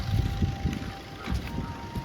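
Steady wind rushes and buffets the microphone at a beach, a loud low rumble with gusty swells throughout.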